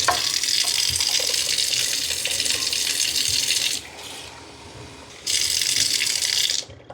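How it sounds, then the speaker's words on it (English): Tap water runs hard from a kitchen faucet, a loud continuous gush that drops to a trickle for about a second and a half, then surges back before stopping. "and then we'll go get some tap water"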